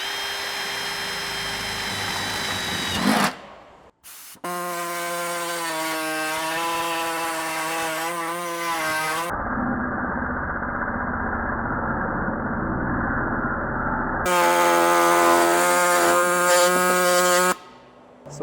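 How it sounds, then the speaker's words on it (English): Loud, buzzing air hacksaw cutting through a guard close up in long continuous runs, broken by a short pause and a stretch of muffled, lower grinding. "so that way you can start your air hacksaw in it"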